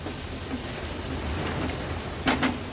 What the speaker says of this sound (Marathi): टोमॅटो पण मसाल्यामध्ये असा परतून घ्यायचा आहे.